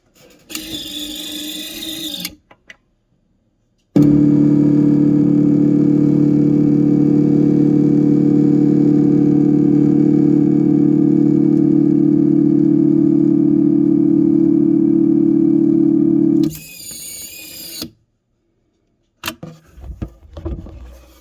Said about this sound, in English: Let's hit the button one more time, and you can see what it feels like to ride in the elevator